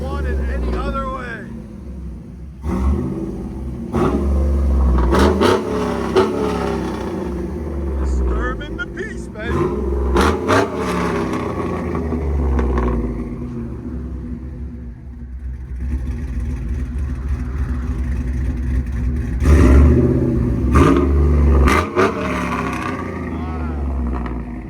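A lifted 2008 Chevy Tahoe with a 5.3L V8, long-tube headers, a cam and a Flowmaster Super 10 exhaust rumbles loudly outdoors, with repeated revs over a deep idle while people talk nearby.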